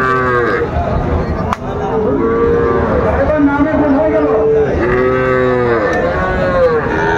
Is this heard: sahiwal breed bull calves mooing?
yes